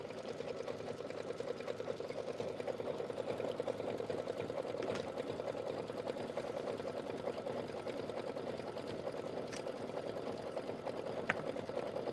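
A sewing machine runs continuously at a steady hum while it stitches a decorative pattern on a piece of quilting fabric for a Kimberbell project. The sound is fairly quiet and even, with a few faint clicks.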